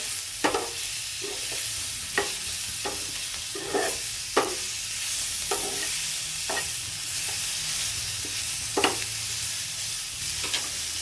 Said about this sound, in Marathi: आता आपण टोमॅटो टाकून घेऊ। टोमॅटोला पण आपल्याला परतून घ्यायचंय।